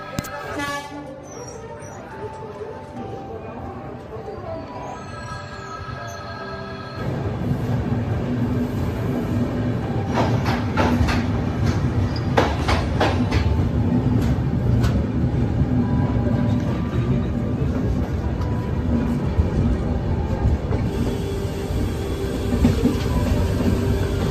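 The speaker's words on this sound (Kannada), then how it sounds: "ಈಗ ಇಟಾರ್ಸಿ ಜಂಕ್ಷನ್ ಬಿಟ್ಬಿಟ್ಟು ನಮ್ಮ ಟ್ರೈನು ಮುಂದೆ ಹೋಗ್ತಾಳೆ" A passenger train rolls on out of Itarsi Junction in Madhya Pradesh, a steady loud rumble of wheels and carriages heard from on board, joined midway by a horn toot and clattering rail noise.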